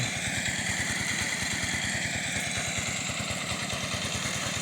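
Eight-horsepower walk-behind tractor with a mulcher mowing potato tops, its engine chugging steadily and loudly at close range in a fast, even rhythm throughout.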